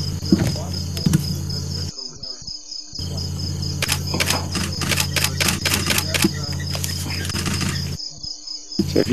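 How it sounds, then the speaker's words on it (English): Two cameras firing rapid machine-gun bursts of shutter clicks while photographing leopards and lions, loud and close, the clatter running in long strings broken by brief pauses, with people talking quietly underneath. "So if you hear the clicking, it's Scott and my camera. So you've got it in machine gun to that."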